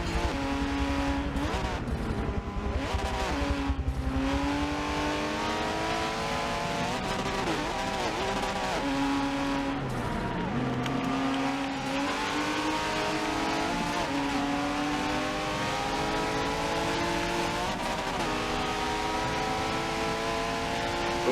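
Race cars in a video game championship set in the '80s, engines revving and shifting continuously with rising and falling pitch as they chase each other through corners, loud and steady with no talking.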